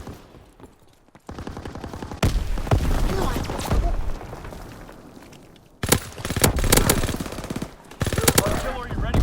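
Artillery and machine-gun fire in the World War II video game Call of Duty WWII: loud, dense bursts of rapid shots and booming impacts in several waves, with brief pauses and a voice heard under the barrage.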